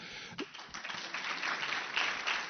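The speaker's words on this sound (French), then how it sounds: "je vous demande d'applaudir" Audience applause for a national delegation at the official opening of an event, a short burst of many hands clapping that builds quickly and stays fairly soft and distant.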